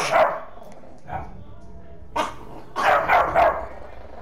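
A dog barks in bursts of three or four loud, near yelps in Star Wars Jedi Fallen Order, spaced across the moment, with a voice talking over some of them.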